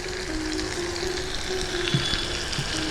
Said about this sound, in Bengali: এবার নামিয়ে দেওয়ার আগে আমি কাঁচা সর্ষের তেলটা দিয়ে দিচ্ছি।